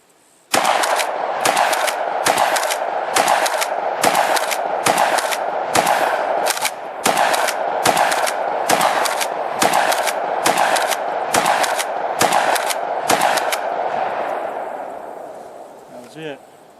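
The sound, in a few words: UTAS UTS-15 shotgun firing 15 rounds in succession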